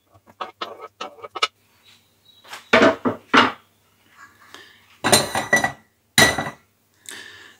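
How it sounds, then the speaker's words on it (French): A utensil scrapes and knocks against a bowl while pineapple upside-down cake batter is mixed. Bursts of clinking and clattering come close up, separated by short quiet gaps. "Je mélange une dernière fois."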